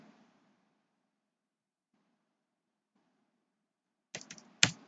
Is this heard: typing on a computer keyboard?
yes